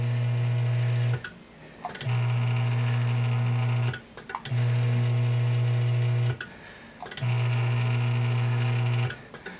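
Sewing machine motor driven by a foot pedal in four separate bursts, each a loud steady hum lasting about two seconds, separated by short clicks and pauses.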